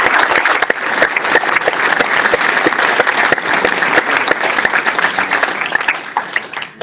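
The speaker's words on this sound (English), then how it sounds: "So just another round of applause," Loud, close audience applause at a supporters' trust AGM, many hands clapping densely and continuously with crisp individual claps standing out, tapering slightly near the end.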